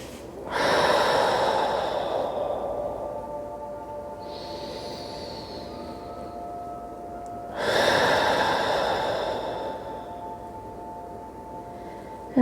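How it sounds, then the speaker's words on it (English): Two slow, deep breaths during a quiet yin yoga stretch, each a long airy inhale or exhale lasting a couple of seconds and separated by several seconds of near silence, close to the microphone. "Breathing into the belly."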